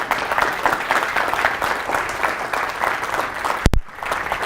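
Dense, sustained audience applause at a conference, continuous clapping from a crowd with a sharp bump near the end before it carries on.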